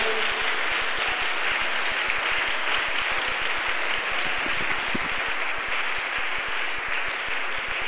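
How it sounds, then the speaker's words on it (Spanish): A church congregation applauds steadily throughout, dense clapping from many hands in a large room with no voices over it. "Dele ese aplauso al Señor mejor"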